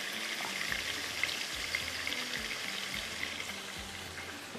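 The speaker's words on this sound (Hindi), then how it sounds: "यहाँ पर ये हम इसको अच्छे से भूनेंगे। थोड़ा सा हाई फ्लेम पे भून लीजिएगा।" Minced meat and cauliflower sizzle steadily in a pan over high flame, a continuous bright crackling hiss at moderate level with no voices.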